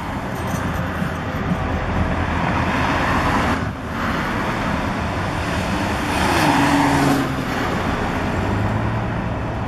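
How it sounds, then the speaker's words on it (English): Buses passing on a city street, with a steady rumble of heavy traffic throughout, a brief dip near four seconds and a louder swell of engine noise around six to seven seconds as another vehicle goes by. "Love it when them buses go by."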